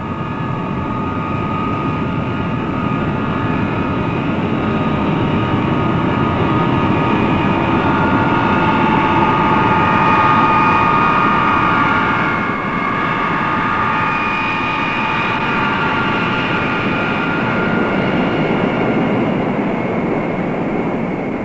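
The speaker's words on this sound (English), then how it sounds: "the B-52 pilot taxis to the takeoff runway" A B-52 bomber carrying the X-15 taxis to the takeoff runway, its jet engines producing a loud, continuous roar and whine that holds steady for about twenty seconds, with no voices.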